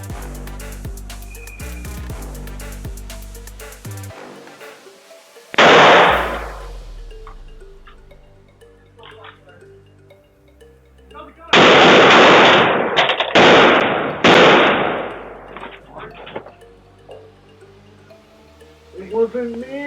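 AR-15 rifle gunshots picked up by a Ring doorbell camera: two loud clusters of rapid, sharp reports ring out, the second a longer string of several shots, amid quieter background noise.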